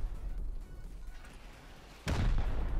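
A blast booms suddenly in the video game Rust, a loud, sharp burst cutting in after a stretch of quieter game noise and lingering briefly to the end.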